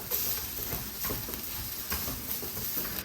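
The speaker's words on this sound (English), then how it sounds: "I'm gonna let this just saute." Rice and shrimp sauté in a pan for gochujang shrimp fried rice, a steady close sizzle broken by soft scraping stirs at an uneven rhythm.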